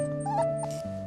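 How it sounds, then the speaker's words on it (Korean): A puppy that stays close to its mother in the Bolivian mountains gives a short whimpering yelp, a thin rising whine over a steady tonal background hum, close and moderately loud. "형제에게 유일한 친구인 강아지."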